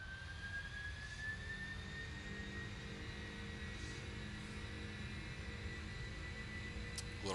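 Boeing 747 jet engines spool up to takeoff thrust in a flight simulator, a steady roaring whine with a rising tone sweeping upward, constant and moderately quiet throughout.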